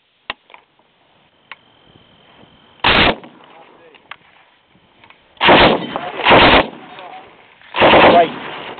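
A C6 general purpose machine gun firing tracer rounds at a live-fire range: a faint single crack opens, then several loud, close bursts come in quick succession with quiet gaps, and a voice speaks between them.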